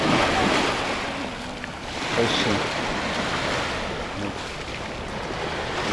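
Steady roar of Baltic Sea surf washing onto the beach at Gdynia, Poland, broad hissing noise with gentle swells, mixed with wind buffeting the microphone.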